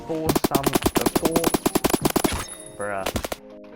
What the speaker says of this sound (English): such a bad LMG, man. But yet again, it's just a really reliable LMG